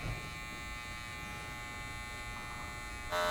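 Electric hair clippers trimming a little off a man's messy hair during a barbershop skin fade and beard session, a steady close buzz running throughout with a slight rise in pitch near the end and no talking.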